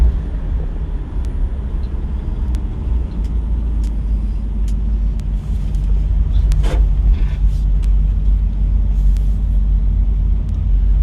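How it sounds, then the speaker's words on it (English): A 1966 Ford Mustang with a 289 V8 rumbles low and steady from its exhaust, a continuous deep drone that swells slightly in the second half, with scattered light clicks and ticks over it. "got a good sounding exhaust"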